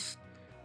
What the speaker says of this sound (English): This still does make this shutter sound sometimes, like this.